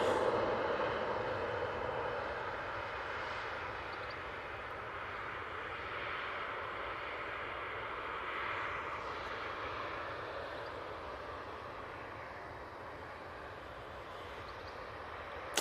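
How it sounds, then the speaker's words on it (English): Airplane on final approach at Manchester Airport, a steady broadband engine roar holding level throughout, distant-to-moderate and continuous with no talk over it. "Do have plane on final."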